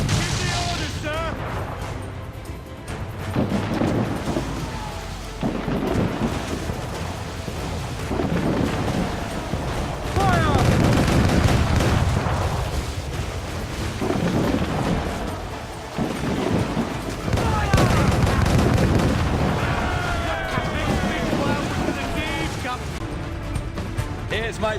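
Ship cannons fire in a naval battle in Assassin's Creed 4 Black Flag, with heavy rolling booms and rumbling volleys that continue throughout, under shouting voices.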